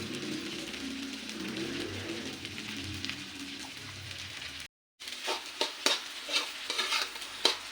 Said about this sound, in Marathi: असं परतू परतू घ्यायचा एक पाच ते सात मिनटं म्हणजे आपला किस पण त्याच्यामध्ये शिजला जाईल